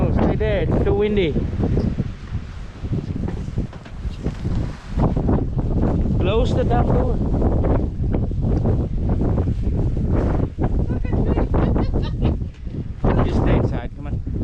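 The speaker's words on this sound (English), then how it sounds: "It's too windy." Strong blizzard wind roars and buffets the microphone in steady, heavy gusts while voices shout over it close by.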